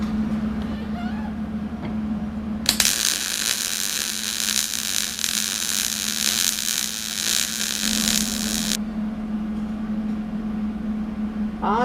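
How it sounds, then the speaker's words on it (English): Arc welding on steel parts of a homemade folding box anchor, a loud, steady crackling hiss lasting about six seconds over a constant low electrical hum. "Now we'll go ahead and weld that up solid."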